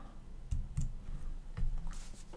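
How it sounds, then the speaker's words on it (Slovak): A computer keyboard is tapped a few times, with soft dull clicks of keys such as Tab landing irregularly over a quiet room background, close and faint. "Tak stlačím tabulátor"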